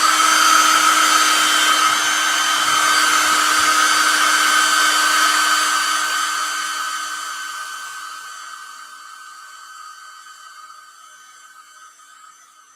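Heat tool blowing on freshly painted eyes of a Christmas ornament: a loud, steady whirring drone with a high whine that holds for several seconds, then fades gradually as the tool winds down, with no talking.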